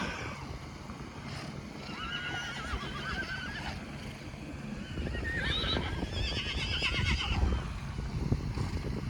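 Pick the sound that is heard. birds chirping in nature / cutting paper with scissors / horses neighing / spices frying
horses neighing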